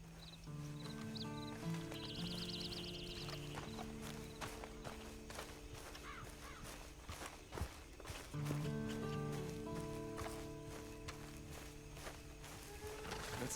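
Horse hooves clip-clop in Red Dead Redemption 2 along with a brief whinny, moderately loud, set under steady background game music.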